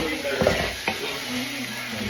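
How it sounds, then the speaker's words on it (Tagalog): Onions and aromatics sauté in a hot pan with a steady close sizzle, broken by a few sharp stirring scrapes and clacks. "Palitawin lang natin yung aromatics."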